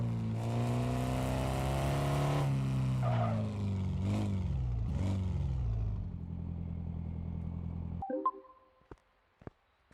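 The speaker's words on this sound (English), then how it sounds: "It sounds to me like the exhaust is blowing." A synthetic video game car engine with a blowing exhaust drones and rises in pitch, then cuts off, leaving a few sharp clicks and rattles.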